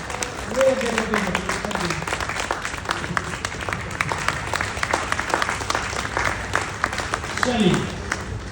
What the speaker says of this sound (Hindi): तालियां बजा के थक गए भाई साहब